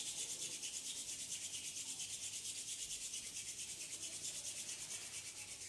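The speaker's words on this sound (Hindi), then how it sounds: "दोनों हाथों को रब करेंगे" Two hands rub briskly together during a yoga exercise, a steady, close, soft rhythmic swishing friction that repeats evenly throughout without any talk.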